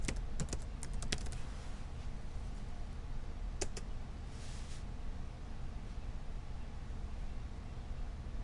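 Computer keyboard typing, a few quick clusters of sharp clicks early on and a couple more later, over a constant hiss of background noise.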